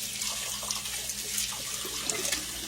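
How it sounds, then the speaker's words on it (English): Water from a kitchen tap streams steadily into a sink while hands are rinsed, a constant close hiss with small splashes throughout. "Rinse my hands off."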